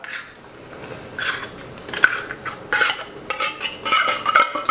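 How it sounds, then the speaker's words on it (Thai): Canned fish is tipped into a pot of Mama instant noodles cooking with tomato, mushrooms and herbs, giving scattered metallic clinks, scrapes and stirring clatter over a soft simmer. "ก็ใส่ปลากระป๋องเลยนะครับ"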